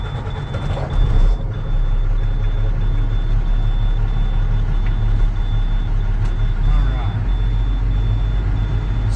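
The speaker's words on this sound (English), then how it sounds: "First I need to build the air pressure. So I'll start the engine" A truck engine starts and settles into a steady low idle while air pressure builds for a CDL Class A inspection, a constant loud rumble throughout with a brief burst near the start and faint higher tones above.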